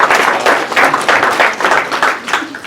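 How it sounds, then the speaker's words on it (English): A crowd applauds steadily, dense overlapping claps filling the whole stretch at an even, moderately loud level. "give a round of applause for yourself."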